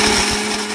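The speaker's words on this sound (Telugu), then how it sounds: "ఈ కొబ్బరి మనం మిక్సీ వేసాం కదా, మిరపకాయలు వేసాక మిక్సీ పట్టుకుందాం." A mixer grinder whirs loudly and steadily, grinding grated coconut with chillies for a brinjal coconut fry, a close motor drone with a slight wobble that eases a little toward the end.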